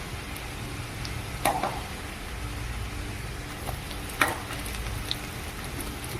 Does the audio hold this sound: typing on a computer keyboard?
no